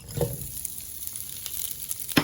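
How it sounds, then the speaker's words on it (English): Frozen tater tots hit hot oil in a frying pan, giving a quiet, brief sizzle with a few soft crackles and clicks close by. "All I'm going to do is add my tater tots that are frozen."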